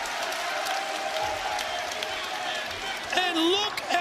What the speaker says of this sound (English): And the fans stand and cheer.